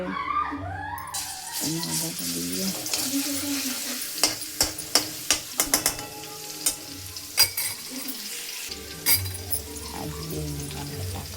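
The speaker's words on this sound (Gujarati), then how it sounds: "શાક વઘારું છું." Oil crackles and sizzles steadily as vegetables fry, with sharp clinks of a utensil against the pan and brief talk at the start and end.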